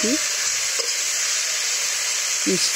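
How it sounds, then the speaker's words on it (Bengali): Bitter gimi greens with turmeric and salt are stirred with a spatula in a hot pan, producing a continuous loud sizzle with a few short scraping clinks of the spatula near the start and end. "এবার খুন্তি দিয়ে নেড়ে ছেড়ে আমি শাকটার গায়ে হলুদ আর লবণটা মিশিয়ে"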